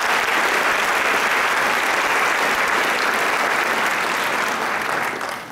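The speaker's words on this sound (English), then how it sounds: "could we get a please get a round of applause for all of you" A large crowd at a 2017 high school graduation ceremony gives the graduating class a sustained round of applause, loud and dense from start to finish, easing off slightly at the very end.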